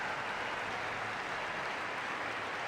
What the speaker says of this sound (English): Let us send him off with a round of applause